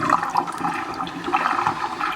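Water gushes and drains from a kitchen sink through a newly installed garbage disposal, a steady rushing, gurgling flow close by with no talk.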